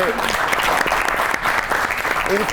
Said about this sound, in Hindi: वेरी नाइस, बहुत ताली होनी चाहिए।